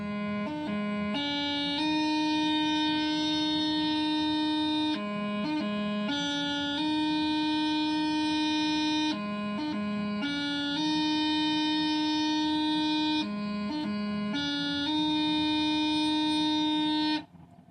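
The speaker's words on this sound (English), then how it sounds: "now this is the heavy D throw that has the same embellishment technique" Bagpipes playing the heavy D throw embellishment, with a steady drone beneath short repeated grace-note flourishes that resolve onto a held D melody note, loud and sustained, several times in a row, with no talking.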